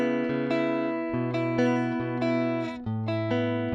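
Clean electric guitar on the middle pickup, recorded direct through a Heritage HA81A preamp with no EQ, in a pop part: bright, crisp picked notes and chord stabs in a quick rhythmic pattern, dry and close.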